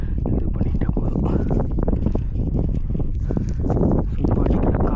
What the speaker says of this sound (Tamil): எவ்வளோ காற்றடிக்குது பாருங்கள், நல்லாவே காற்றடிக்குது.